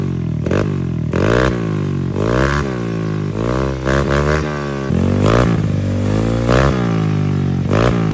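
A Mio Soulty scooter engine with a Kvin Pipe aftermarket exhaust is revved up repeatedly. It rises in loud, close blips with a raspy exhaust note, and each surge falls back to idle before the next.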